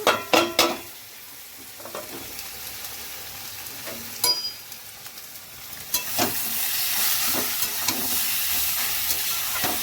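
Green chilies hit hot oil in a pan while cooking taro greens, giving a few sharp clatters and stirring knocks up front, then a steady soft sizzle that swells and holds, close and fairly quiet with no talk.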